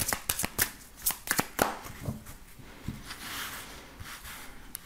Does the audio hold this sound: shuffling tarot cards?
yes